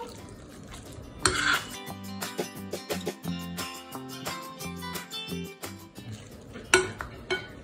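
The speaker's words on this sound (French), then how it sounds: "On mélange déjà la brousse et le saumon." Brousse cheese and fresh salmon are stirred together in a bowl, with a rhythmic run of close scraping and clinking utensil strokes, fairly quiet and without talk.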